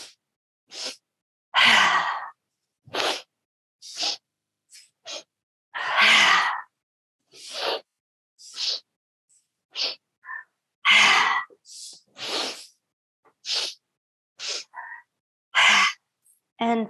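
Slow, deliberate breaths during a yoga warm-up, each inhale and exhale a soft, airy rush near the microphone, repeating in an even rhythm with short silences between them.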